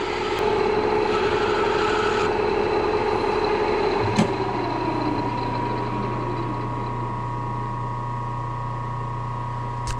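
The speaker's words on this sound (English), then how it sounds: "So you need to turn your lathe up faster" A lathe runs with a steady mechanical hum and whine; around the midpoint there is a click and the motor tone shifts to a new pitch as the speed changes, then it holds steady to the end.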